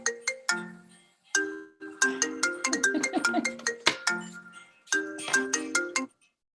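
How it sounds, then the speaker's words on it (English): A phone ringtone from an incoming call chimes in short melodic bursts, repeating a bright pattern several times before stopping, at moderate volume in a quiet room. "I got a phone call in the middle of all that."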